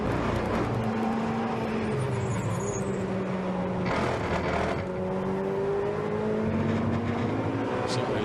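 Ferrari Challenge race cars lapping the Hungaroring, engines rising and falling through the gears with a rough buzz over rumble strips, heard at a distance and steady throughout.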